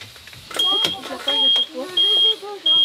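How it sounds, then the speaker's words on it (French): Small beeper installed on a bus being converted into a camper, sounding a steady high electronic tone in repeated bursts of roughly half a second to a second, close and clear, alternating with people talking. "Alors, Jeff, ça y est, là, monté le petit bip-bip, regardez."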